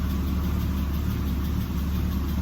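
A warmed-up BMW E36 with an M50 engine and shorty headers idles steadily and loudly. A constant low rumble carries a fine, continuous ticking chatter from the valves.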